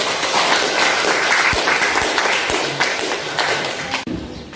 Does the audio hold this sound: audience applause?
yes